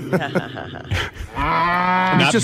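A man imitates a cow with a long, drawn-out vocal moo, preceded by brief chatter and other voices in a talk-show studio.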